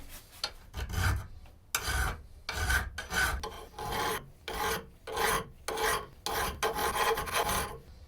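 Hand file rasping along the profile of a forged steel clip point knife blade, about a dozen rhythmic strokes, close and loud with no talking.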